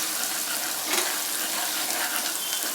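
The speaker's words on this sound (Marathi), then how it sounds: "मिरचीचं, कोथिंबीर आणि लसणाचं वाटण याला चांगलं फ्राय करून घेऊया आणि चवीनुसार मीठ" A paste of green chilli, coriander and garlic sizzles steadily in hot oil, a close, continuous broadband frying hiss with faint stirring scrapes and no voices.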